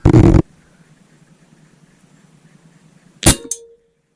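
A BSA Scorpion TS .177 air rifle fires with a loud, sharp crack at the start, then after about three seconds of near silence a second sharp report sounds, followed by a brief ringing tone.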